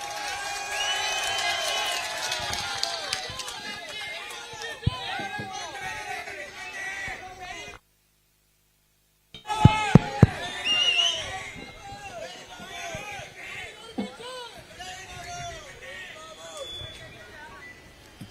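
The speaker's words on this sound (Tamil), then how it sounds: "அனைவரும் அவர்களுக்கு கரகோஷம் கொடுத்து அவர்களை வரவேற்பு கொடுக்குமாறு கேட்டுக்கொள்கிறேன்" A crowd at a political campaign rally claps and cheers to welcome the speakers, with clattering applause and babble that cuts out briefly and then resumes with sharp loud hits and continued cheering.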